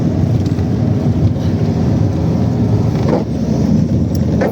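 Steady car engine and road rumble from inside a vehicle on the drive home from a district town, a continuous loud drone with wind noise throughout.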